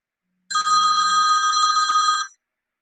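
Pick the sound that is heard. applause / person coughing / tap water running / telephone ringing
telephone ringing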